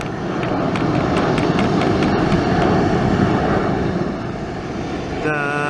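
An airliner taxiing toward takeoff gives a loud, steady engine roar and whine that fills the scene, easing slightly near the end, with voices talking over it.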